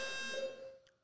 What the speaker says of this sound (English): Is that an alarm?